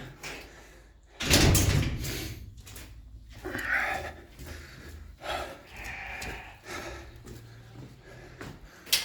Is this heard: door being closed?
yes